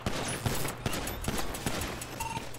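Rapid gunfire in a police-chase role-play video game, a dense run of sharp shots in quick bursts across the whole moment, fairly loud and close with no talking over it.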